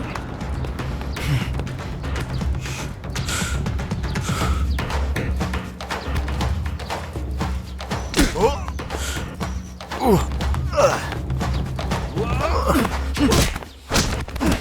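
Repeated heavy thuds of someone being beaten land in an irregular series amid shouting and pleading voices in a dramatic fight scene, close and loud.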